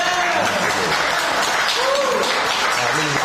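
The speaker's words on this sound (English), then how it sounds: "Let's give it a round of applause." Audience applause at a coaches' show, steady dense clapping throughout with voices talking over it.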